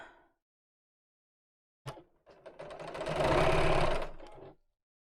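A domestic sewing machine stitches a seam in fabric, starting with a brief whir, then a short pause before a rapid, steady run of stitching that builds, holds and stops, close and clear.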